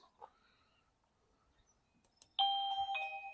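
An XTU WiFi video doorbell chime rings indoors after a quiet stretch with a few soft knocks and clicks: a clear, loud two-tone ding-dong that sustains and rings out near the end.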